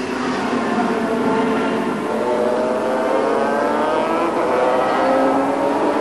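Suzuki racing motorcycles at the 1985 Macao race, heard as a loud, continuous high-revving engine whine with pitch rising and falling as the bikes pass, with no talk.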